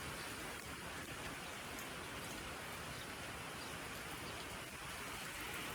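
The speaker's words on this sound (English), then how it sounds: "I got this glorious rain started." Steady rain falls in a soft, even hiss, with a constant patter of drops and no other sounds.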